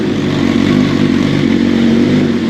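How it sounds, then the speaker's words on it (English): A BMW S1000 sport bike engine runs close and loud in a steady, throbbing idle, with no pauses across the short stretch. "That's my BMW S1000. We'll give it a start."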